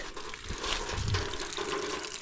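Water gushes and trickles steadily from a reservoir built as a water catchment near a hut, a continuous close splashing flow with low rumbling surges and no talk.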